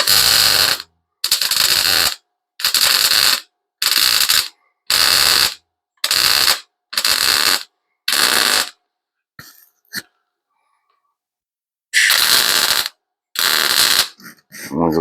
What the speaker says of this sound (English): I'm just gonna do that and that, and then I'm done welding on this one.